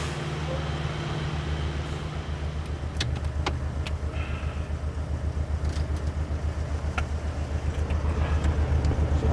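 Trucks rumble in along an ice road, a low steady engine drone with rhythmic pulsing that grows louder toward the end, as a vehicle approaches, with a few brief clicks and knocks over it.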